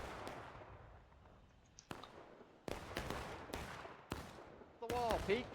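Gunfire in a tactical squad shooter game, a handful of sharp broadband shots spaced about a second apart, distant to mid-range, with a fizzing whistle near the end and faint voices underneath.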